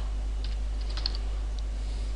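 Code is typed on a computer keyboard, a short run of light, quick key clicks over a steady low electrical hum.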